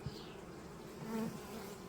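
Honey bees buzz around a hive at an apiary colony, a close, droning hum with slight pitch wavers as individual bees pass near, no talking.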